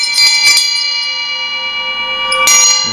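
A Tibetan-style bell rings with a bright, sustained metallic shimmer, struck twice in quick succession and then once more, each strike blooming over the lingering tone.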